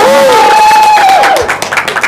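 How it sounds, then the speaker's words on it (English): Applause and crowd noise greet speaker Stephen August at a vegan festival in Orlando, loud at first and then thinning into scattered claps, while a rising and falling voice sings over the opening. "Big round of applause for Stephen August"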